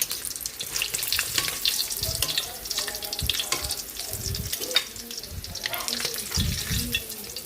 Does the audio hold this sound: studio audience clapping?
no